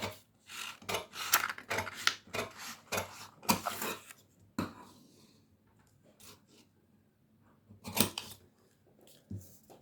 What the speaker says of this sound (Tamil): இப்போ கட் பண்ணுறேன் பாருங்கள்.